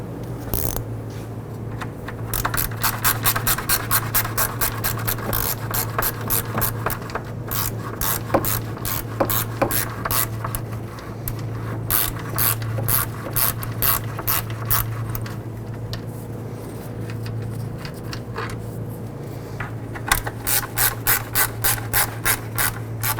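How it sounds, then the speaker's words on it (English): Rapid bursts of ratchet clicks work loose two 10mm bolts holding the radiator fan on a 2007-2011 Honda Civic, pausing between runs over a low steady hum, close and clear, with no talking. "Now we're going to go ahead and remove these 2 10mm bolts."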